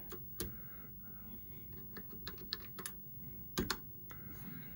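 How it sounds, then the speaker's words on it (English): Keys clack on the worn, sticky keyboard of an old Commodore PET computer under test, with irregular bursts of quiet, close taps and short pauses between them. "Alright, so the keyboard is going to need attention."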